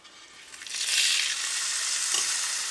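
Chicken pieces with ground pepper go skin side down into a hot cast iron skillet, and a steady sizzle swells quickly and then holds bright and even, with no voices.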